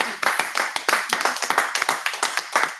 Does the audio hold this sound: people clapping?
yes